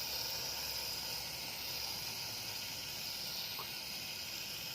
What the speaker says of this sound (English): if you got some brake cleaner, go ahead and clean out the housing